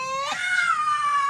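A house cat lets out one drawn-out, wavering meow close by, fairly loud and alone, rising and then trailing off.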